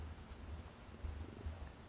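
A cat gives a low, rumbling vocalization, an unfamiliar meow blended with purring, soft and close, steady over about two seconds with a couple of slightly louder swells and no talk.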